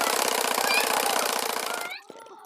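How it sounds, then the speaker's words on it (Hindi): A sewing machine runs steadily, stitching the seat seam of a Patiala salwar, a rapid mechanical rattle that holds for about two seconds before stopping, followed by a faint click. "तो चलिए मैं आसन की सिलाई लगा लेती हूँ।"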